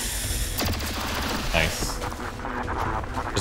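Gunfire in XCOM 2 War of the Chosen, with a sharp shot near the middle among clattering mechanical sounds and a busy game backdrop, all at a steady moderate level.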